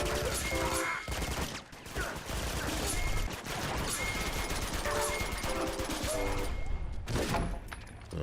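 Dense gunfire from other players in Uncharted 2 multiplayer rattles in rapid overlapping bursts with sharp cracks and crashes, loud and nearly continuous, layered over game music and a talking voice.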